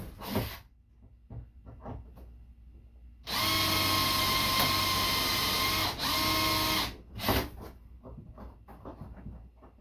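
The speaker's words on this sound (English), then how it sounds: "It's making my rivet spin while trying to drill this out." A power drill whirs at high speed for a few seconds while drilling out a spinning rivet on a kayak seat, briefly dipping mid-run, close and loud, with clattering handling noises before and after.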